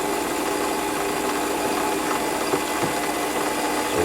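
A 5mm drill bit bores into metal on a Warco lathe, giving a loud, continuous mechanical whir and grind that holds steady throughout, with faint knocks partway through.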